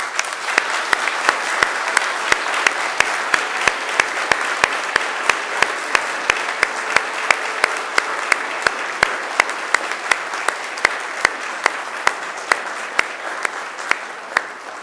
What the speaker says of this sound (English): now it's time to give them a mighty round of applause